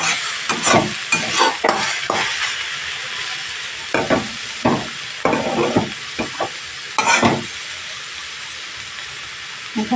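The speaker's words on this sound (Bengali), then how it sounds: "এবার এখানে আমি চিংড়ি মাছগুলো দিয়ে দেবো। দিয়ে ভালো করে নাড়াচাড়া করে দিয়ে দেবো।" Shrimp fried in a pan for a Bengali radish checkhi, stirred vigorously in bursts with loud scraping and clattering over a constant sizzle, close up.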